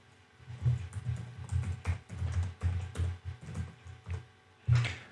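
Computer keyboard typing a command-line entry for aircrack-ng in a security lab, with quick irregular clusters of keystrokes close up and a firmer burst near the end.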